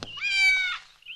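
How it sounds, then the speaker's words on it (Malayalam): A kitten in a film scene lets out a single clear, high, drawn-out meow, close and alone, followed by a brief faint squeak. "ഈ പൂച്ചക്കുട്ടി ജീവനോട് എത്തിക്കണമെന്ന്."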